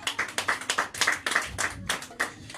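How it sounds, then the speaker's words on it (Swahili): A church congregation at a baptism service claps in quick rhythmic bursts, close and fairly crisp, with brief gaps between the volleys. "Wapi makofi mazuri sana."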